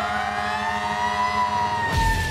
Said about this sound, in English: when the fire siren sounds,